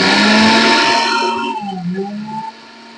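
A mixer grinder grinding dry chillies and cumin for mint chutney gives a loud, close motor whine that drops in pitch as it winds down, then stops partway through, leaving a faint hum.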